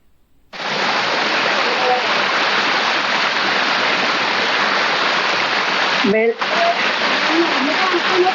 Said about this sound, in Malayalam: ഈ വെള്ളച്ചാട്ടത്തിന്റെ അടുത്തിരിക്കാൻ നല്ല രസം കിട്ടാ